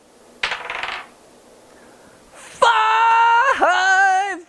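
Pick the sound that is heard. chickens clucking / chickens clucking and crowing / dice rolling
dice rolling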